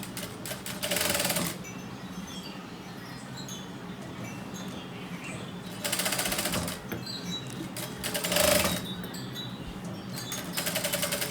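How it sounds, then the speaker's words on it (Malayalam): Sewing machine stitching a shoulder seam with a quarter-inch allowance during a tailoring lesson, running in three or four short bursts of steady whirring separated by a quieter, continuous motor hum, fairly near. "എന്നിട്ട് നമ്മൾ സ്റ്റിച്ച് ചെയ്യാം."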